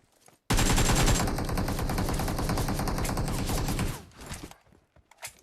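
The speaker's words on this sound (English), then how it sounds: "The gun sounds are weak." Sustained automatic gunfire from an MG3 in PUBG Mobile, a loud, dense rapid burst lasting a few seconds after a sudden start, then cutting off into scattered fainter shots and quiet.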